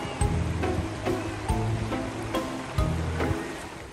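A chilly creek in the New Jersey Pine Barrens flows with a steady broad rushing wash, partly masked by a louder music bed with rhythmic low tones.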